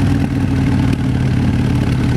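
A Harley-Davidson Fat Bob motorcycle idles steadily through aftermarket exhaust pipes, a loud, close, low rumbling burble with no talk over it.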